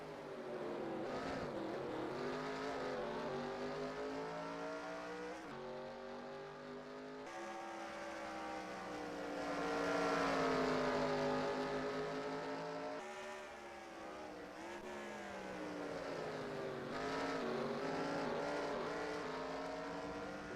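Stock cars racing at Road America, several engines roaring loudly and continuously at close range, rising and falling in pitch as they pass and shift, with a brief lull mid-way.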